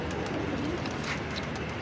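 Pigeons coo softly in a loft setting, a faint, low, rolling murmur of several birds carrying on steadily in the background.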